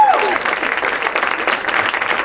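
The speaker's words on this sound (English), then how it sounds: "Give a nice round of applause." Audience applause at the 2016 LIIFE Awards ceremony: a dense, steady wash of clapping from a crowd, holding at an even, fairly loud level throughout.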